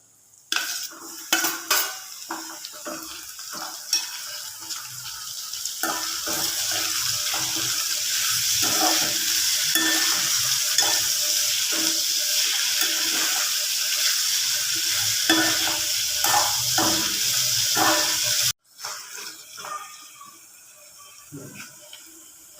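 Onions frying in oil in a pan for a chickpea sundal gravy, a steady close sizzle with repeated scraping and clinking of a spoon stirring against the pot, broken by a sharp cut near the end before quieter stirring.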